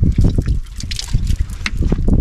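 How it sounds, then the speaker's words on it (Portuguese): Soapy water trickles and splashes as it is poured over hands being washed, a steady close liquid dribble with uneven bursts throughout. "Tem água com sabão, que a gente já traz,"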